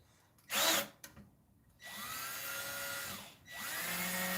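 A power drill whines in short bursts while driving screws into a haunted-house dungeon build, one brief loud burst followed by two longer steady runs with a falling-then-rising pitch at each start and stop.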